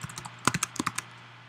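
Brief burst of typing on a computer keyboard during coding, with about a dozen quick, close keystrokes in an uneven rhythm over a faint steady hum.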